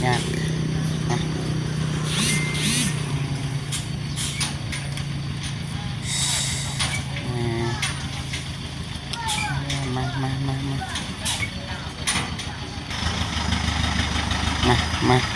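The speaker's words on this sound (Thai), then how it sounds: "นี่กำลังถอยมาพี่น้องเนาะใส่เกียร์ถอย รถใหญ่พี่น้องยาก" A large truck reversing in reverse gear gives a steady engine idle and rumble that carries on under people talking nearby.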